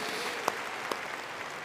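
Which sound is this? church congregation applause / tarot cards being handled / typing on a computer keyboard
church congregation applause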